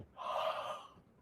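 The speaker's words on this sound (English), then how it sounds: "Yawning is very relaxing for the body." A single soft, breathy yawn from a person stretching, close and quiet, with a long airy exhale and no talking.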